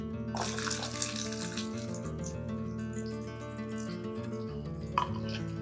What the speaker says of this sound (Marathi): आता मी कांदा टाकते.